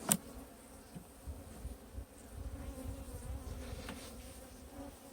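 Honey bees buzzing softly around an open beehive during a hive inspection, a faint continuous hum with individual bees droning past close by, no talking.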